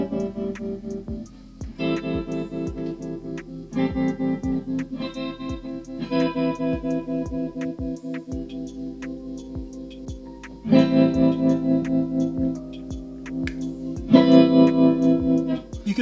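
Electric guitar played through a Boss TR-2 tremolo pedal with its volume boosted, strummed chords pulsing rhythmically and growing noticeably louder in the last bursts, with no one talking.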